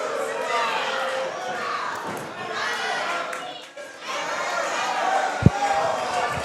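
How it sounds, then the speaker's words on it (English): Wrestling crowd at a CWF No Holds Barred championship match reacting with loud, sustained disapproval to a referee's count, a dense roar of many voices with one sharp thud near the end. "The crowd is unhappy with that count."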